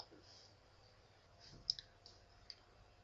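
A computer mouse clicking an OK button in GIS software, a couple of faint sharp clicks close to the microphone over a low background hiss, with a voice speaking softly around them.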